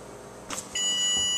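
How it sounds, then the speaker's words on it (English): A kitchen timer goes off after two minutes of poaching an egg, a soft tap followed by a steady, sustained electronic beeping tone. "The timer went off after 2 minutes."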